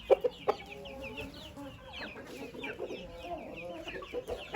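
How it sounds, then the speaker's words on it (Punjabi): Hens and an Aseel rooster cluck nearby in short, irregular bursts, with several sharp calls at the start and faint voices mixed in. "ਅਭੀ ਦੇਖੋ ਮੁਰਗਾ"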